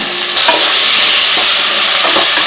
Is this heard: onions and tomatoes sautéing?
yes